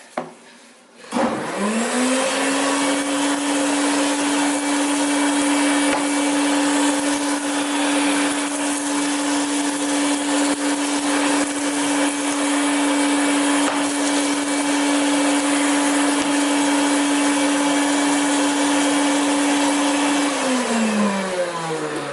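A 1960s Lewyt vacuum cleaner fitted with a Visselvac floor nozzle switches on with a thump and ramps up into a loud, steady whining motor drone that holds for about twenty seconds before winding down at the end.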